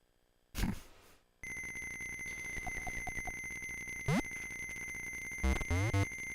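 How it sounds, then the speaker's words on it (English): An alarm clock rings in the Wario Land video game on Game Boy: a steady, shrill electronic tone holds throughout, broken by short chirps, a rising sweep and a burst of blips near the end. "Turn off the alarm clock."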